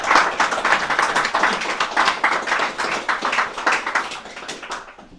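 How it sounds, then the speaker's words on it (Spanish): A church congregation claps during a sermon, a lively burst of many hands with a loose rhythmic pulse, close and fairly loud, tapering off toward the end. "Le damos un aplauso a Dios"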